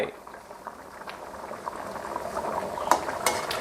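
Fish in coconut curry bubbling steadily in a pot, a continuous close simmer with soft pops and a couple of sharper plops near the end, no voices.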